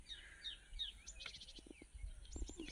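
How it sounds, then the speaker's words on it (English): Birdsong in Kaziranga forest: several birds chirping and whistling at a distance, faint and layered over a quiet outdoor background, with no talk. "And if you just listen, all you can hear is bird song."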